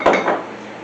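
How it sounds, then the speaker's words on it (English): A spatula clacks and scrapes once against the side of a bowl, a short near knock followed by a fading ring. "Just scrape off my spatula on the side there"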